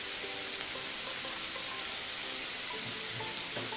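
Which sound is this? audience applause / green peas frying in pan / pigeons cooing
green peas frying in pan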